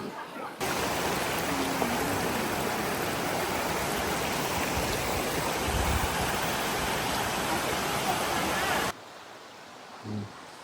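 Running stream water at Kiryu Falls rushes as a loud, steady broadband wash for most of the clip, then cuts off abruptly near the end, leaving quieter ambience with a brief low thump.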